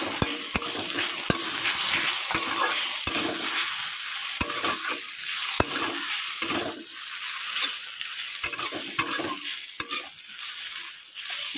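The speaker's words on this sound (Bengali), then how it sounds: "দেখেছো আলুগুলো একটু ভেজে নেব হালকা।" Potatoes fry in hot oil in a wok for aloo paratha, a steady close sizzle and hiss broken by sharp spatula scrapes and stirring knocks at irregular intervals.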